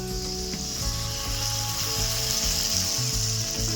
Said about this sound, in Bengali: এবার আমি বেটে রাখা সর্ষে আর পোস্তটা দিয়ে দেবো